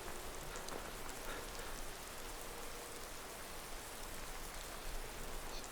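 Rain pours steadily in the video game Skyrim VR, a dense, even hiss of drops hitting the ground with no breaks or other sounds.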